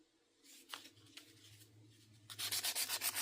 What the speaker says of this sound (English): I think I might just sand them all down as well as I possibly can